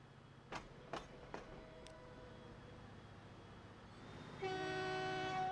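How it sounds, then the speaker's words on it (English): A train rolls past in a building and management video game, with a few sharp clicks early on and a steady rumble that swells near the end into a loud, sustained horn-like tone. "Bye, train."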